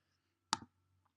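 A single crisp mouse click on a Mac search button, near and clear in an otherwise quiet room, followed by a faint tiny tick.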